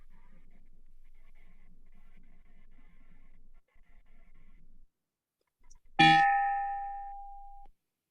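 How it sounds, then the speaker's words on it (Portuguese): A single bell strike closes a Rotary Club meeting, ringing out bright and clear after quiet murmuring, its tone sustaining and slowly decaying for over a second. "o sino agora vai encerrar a nossa reunião"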